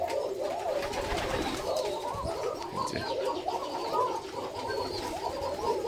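Black Koka pigeons coo steadily while feeding on grit, a soft continuous flock murmur with occasional wing flutters close by.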